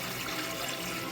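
Two quarts of water pour steadily into a stockpot over chicken for stock, a constant, even rushing splash that fills the short stretch without a break.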